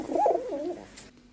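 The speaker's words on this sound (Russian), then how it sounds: "это голубь Баря" A domestic pigeon coos close by, a soft throaty warbling call of about one second that rises and falls before fading into quiet.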